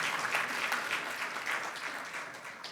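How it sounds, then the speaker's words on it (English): Audience applause at a healthcare summit keynote, a dense, steady wash of many hands clapping that fills the room evenly from start to finish with no voices on top. "applaud that"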